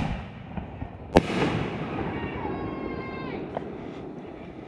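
Raccoon Fireworks 5-inch canister shell bursting in an Independence Day display, one sharp, loud boom followed by crackling and a long fading echo, with quieter distant pops afterward.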